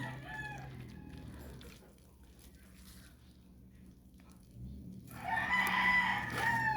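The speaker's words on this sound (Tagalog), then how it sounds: "Mga manok ko guys" A rooster crows loudly near the end, with chickens softly clucking and faint background noise beforehand; the crow stands out clearly over a quiet yard.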